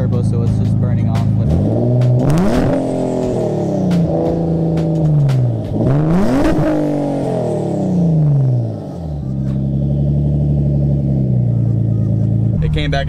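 A turbocharged car engine idles with a deep rumble and is revved hard twice, pitch sweeping up and falling back, with a further rise and a loud steady drone; a voice talks over it.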